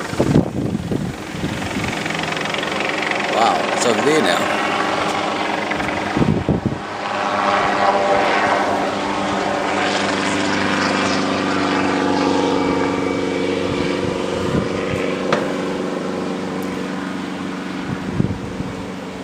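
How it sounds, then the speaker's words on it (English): A helicopter flies overhead at Castlepoint while dropping lollies, its rotor drone loud and steady and pulsing throughout, with someone briefly exclaiming partway through. "A chopper dropping lollies."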